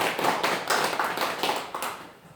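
A church congregation claps together in a steady run of quick, roughly even claps, fairly loud and close, fading slightly near the end with no talking over it.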